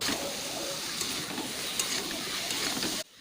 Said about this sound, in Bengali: আলু পটল যে কেটে রেখেছিলাম ওইটা মশলার মধ্যে দিয়ে ভালো করে কষাতে থাকবো